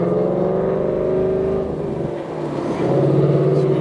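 A manual Mustang GT with bolt-on modifications revs hard inside a tunnel, its engine note loud, steady and close, echoing off the walls as it holds a sustained pull.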